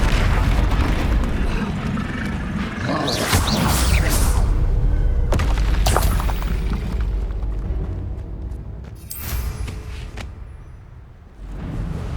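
Booming spell blasts from Hogwarts Legacy combat at Rookwood Castle, the Incendio and Confringo fire spells, erupting in several loud, rumbling bursts with whooshing swells over a dense game soundscape.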